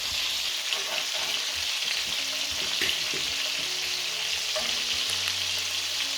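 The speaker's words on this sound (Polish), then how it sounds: "Teraz wyjmujemy nasze żeberka i podsmażymy delikatnie cebulkę." Onions fry gently in rendered pork rib fat, giving a steady, close sizzle with a few stirring clicks and low tonal hums toward the end, and no speech.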